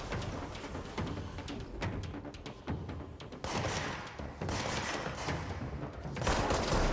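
Enemy gunfire in the video game Control, a dense, continuous barrage of rapid shots and thuds with louder bursts near the end, no talking over it.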